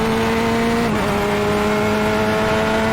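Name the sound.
LMP prototype race car approaching from behind, video game iRacing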